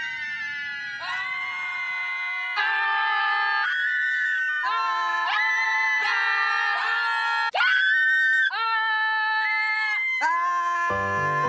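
Loud, sustained screams from several voices fill a Japanese Fuji-Q Highland amusement park commercial, rising and shifting in pitch in long continuous waves with almost no pause.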